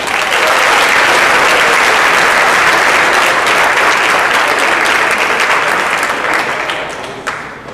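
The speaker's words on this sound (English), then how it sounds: "Round of applause for CBI." Audience applause at a school graduation ceremony: loud, dense, sustained clapping from a large crowd that holds steady, then gradually fades toward the end.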